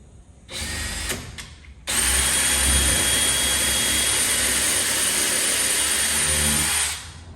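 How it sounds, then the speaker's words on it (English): A power drill pre-drilling holes in very soft wood, a brief initial burst followed by a long, steady, loud whine of several seconds that then stops abruptly. "So I am going to pre-drill these holes."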